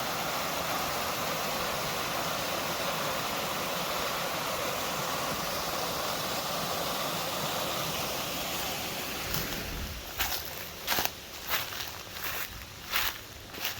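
The Black River flows near canal locks at Lyons Falls, a steady broadband rush of water heard from nearby, later broken by crunching footsteps through brush.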